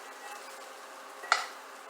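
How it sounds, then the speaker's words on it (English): Rehydrated wood ear mushrooms cooking in a hot pan, a quiet steady sizzle with one sharp clink of a utensil near the end. "now we are gonna cook the wood's ear"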